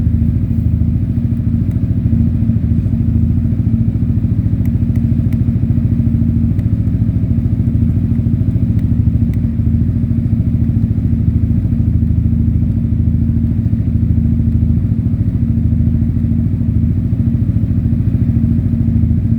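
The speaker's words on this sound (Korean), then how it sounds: "배기음을 들어보겠습니다" A tuned 2019 Yamaha XMAX scooter's exhaust rumbles steadily and loudly in a low, continuous idle drone close to the microphone, with no voices.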